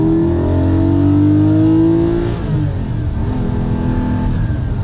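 A GT4 sports car engine drones loudly from inside the cabin on cold tires, its tone climbing as it accelerates, dipping at a gear change, then pulling again.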